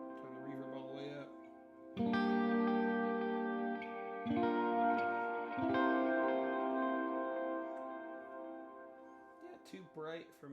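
Electric guitar played through a Wampler Ethereal pedal with the reverb turned fully up rings out in long sustained chords, each swelling loudly and trailing off in a wide, washy tail, with brief talk before and after.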